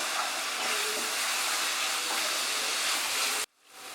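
Spice masala for chicken korma frying in oil with a little water, a loud continuous close hiss that cuts off abruptly near the end.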